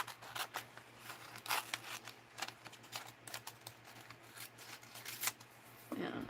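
Scissors fussy-cutting a paper image for a mixed-media art project, a run of close, crisp snips and paper rustles in an uneven rhythm over a low steady hum.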